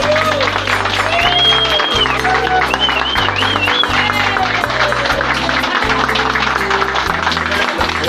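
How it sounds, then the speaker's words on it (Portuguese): Crowd applause following a sung verse at a live music performance, scattered clapping running under sustained instrumental music with voices calling out, loud and continuous throughout. "Mais palmas, merece muitas palmas."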